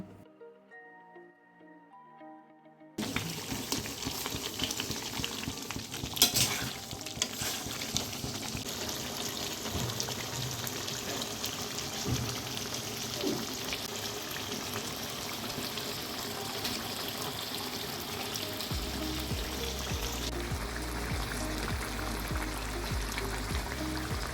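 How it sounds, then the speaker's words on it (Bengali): Mutton simmers and is cooked down with hot water in a pan, producing a continuous bubbling, hissing sizzle that runs steadily and close after a brief quiet start with faint music. "এভাবে গরম জল দিয়ে আমরা কিন্তু মাংসটাকে বারবার খুব ভালো করে কষিয়ে নিচ্ছি"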